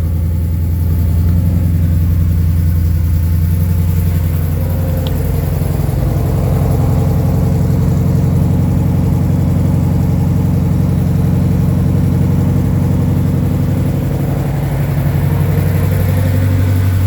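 A Ferrari Daytona's engine idles steadily after a cold start on its automatic choke, a loud, continuous low rumble with a slight rise in revs midway, heard close from outside near the exhaust.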